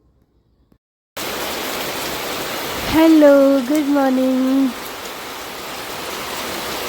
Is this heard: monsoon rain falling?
yes